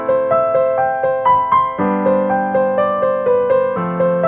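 Piano playing a pop-house chord progression, sustained block chords over a low bass note with a melodic line on top, changing chords roughly every half second, close and clear with no talking.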